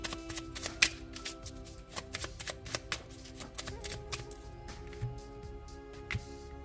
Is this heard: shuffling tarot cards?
yes